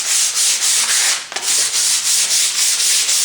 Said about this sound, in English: you can just take sandpaper and scrub it like this, just to take the sharpness off